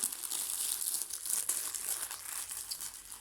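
Plastic wrapping crinkles and crackles close up as a package is opened, a busy, continuous rustle with a few sharper tearing bursts and no talking.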